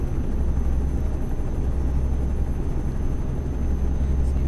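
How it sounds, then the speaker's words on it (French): A helicopter in Euro Truck Simulator 2 thunders low and steady overhead, a dense continuous rotor roar that fills the whole stretch with no breaks. "Putain mais l'hélicoptère il est juste au-dessus de nous encore."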